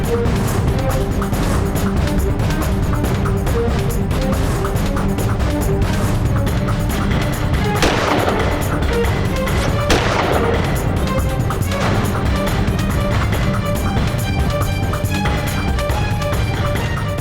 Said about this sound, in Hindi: इतनी पास से 2 गोलियां केडी की छाती में और वो अभी जिंदा है।